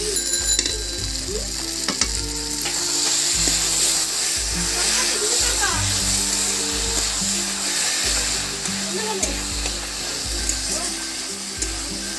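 Lentils fry in a spiced masala with a continuous sizzle and occasional stirring, fairly loud and close, with a steady beeping tone running underneath.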